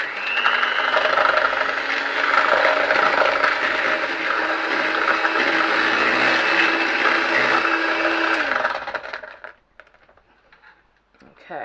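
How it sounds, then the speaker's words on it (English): An electric hand mixer whisks cupcake batter for red velvet cupcakes, a steady loud whirring drone lasting about nine seconds before stopping abruptly into near silence. "using a electric hand mixer, I'm going to whisk these together until it becomes"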